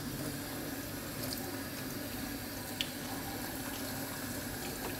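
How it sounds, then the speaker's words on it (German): Aquarium filter media for a saltwater tank is rinsed briefly under a cold running tap, producing a steady, fairly loud hiss and splatter of water with a faint clink midway, no voices. "Das sollte man jetzt mit kaltem Wasser ganz kurz durchspülen"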